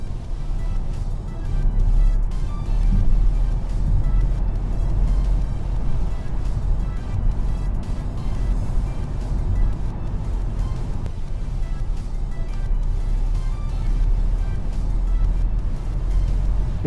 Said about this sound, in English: And now I release the full power on the motor.